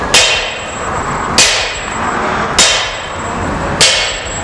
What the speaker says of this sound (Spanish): que los golpes vayan siendo proporcionales a lo largo de toda la muelle, no solamente en un punto